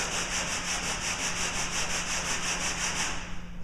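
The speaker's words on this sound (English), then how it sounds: "hold the sandpaper down, and you're going to move it back and forth," Hand sanding wood with sandpaper along the grain, a steady back-and-forth rubbing scrape repeating in an even rhythm, close and continuous with no talking.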